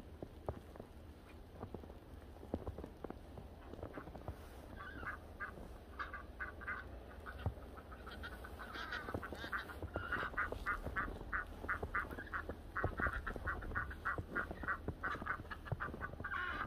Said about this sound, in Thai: นี่ค่ะเพื่อนๆเป็ดไก่ปูนะคะ